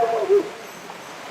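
A dog lets out two short, clipped barks close by, one at the start and another at the very end, separated by a quiet stretch of room noise.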